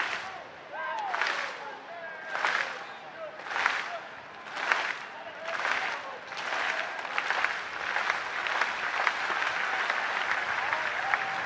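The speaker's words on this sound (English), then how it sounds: "Kyle trying to get the full capacity crowd to join him with a little clap." A full-capacity baseball stadium crowd at a Savannah Bananas game against the Firefighters in Buffalo, New York, clapping along in steady rhythmic bursts that grow into continuous applause, loud and broad across the stands.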